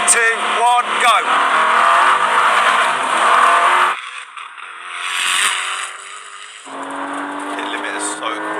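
A car accelerating hard from a rolling start in second gear during a half-mile race, its engine roaring loudly and climbing in pitch, then dropping briefly at a shift before pulling again, with voices talking over it.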